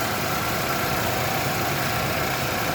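A Chevrolet Sail engine with a camshaft position sensor fault runs steadily after a self-start, a close, even idle hum with no voices over it.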